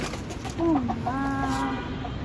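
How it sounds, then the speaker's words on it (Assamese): A hen clucks close by, a drawn-out rising-and-falling call with a few short clucks, over faint outdoor background noise. "মুৰ্গীকেইটা আহিছে মেকুৰী দেখি ঘৰতে একেবাৰে উৰি আহিছে"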